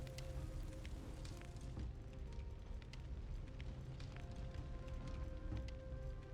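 Steady rain pours down across an open stretch of wilderness in the survival game Soul Mask, a dense continuous hiss with scattered droplet ticks and a low rumbling bed, unbroken and fairly loud with no talking.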